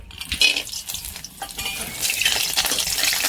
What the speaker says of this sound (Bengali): মটর চালের বড়ি ভেজে নিচ্ছি তেলে দিয়ে দিচ্ছি